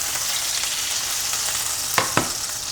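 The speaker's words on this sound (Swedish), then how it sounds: "När det blir varmt i stekpannan tar vi en klick smör." Butter sizzles in a hot frying pan before beef patties go in, a steady close crackling hiss with two brief sharper pops near the end.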